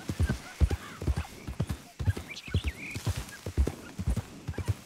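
A horse in Red Dead Redemption 2 trots with steady, rhythmic clip-clopping hooves, close and even-paced throughout, with a brief whinny-like call rising partway through.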